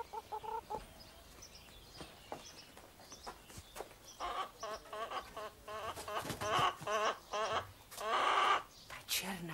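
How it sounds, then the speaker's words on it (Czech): A black hen clucking in a fairy-tale setting, a series of short repeated clucks and squawks growing louder and busier toward the end, with voices talking faintly in places. "Ta černá slepice je kouzelná."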